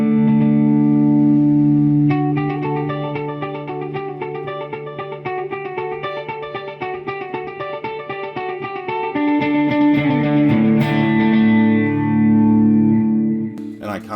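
An electric guitar plays through a dotted-eighth delay, its picked notes repeating in a rhythmic cascade of echoes, loud and close with no talking.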